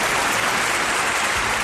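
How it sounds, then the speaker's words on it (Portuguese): A crowd applauds in a dense, steady burst of hand clapping, loud and continuous throughout. "bate palmas para a São Luís."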